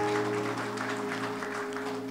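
Audience applause at an Indonesian church sermon, steady broadband clapping over a sustained keyboard or organ drone, moderately loud throughout.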